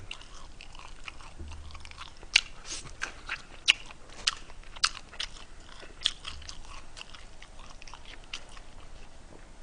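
Close, crunchy chewing of fried chicken and its bones, with sharp cracks and bites at irregular intervals, no talking.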